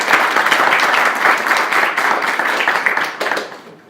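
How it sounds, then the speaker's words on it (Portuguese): An audience at a political gathering claps steadily for several seconds, a dense close wash of hands that fades toward the end. "De uma salva de palmas"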